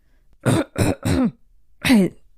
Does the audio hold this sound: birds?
no